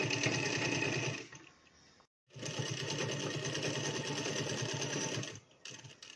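Sewing machine stitching lace onto a lehenga dupatta, running in fast, steady rattling bursts close up, with a brief pause partway through and a short restart near the end.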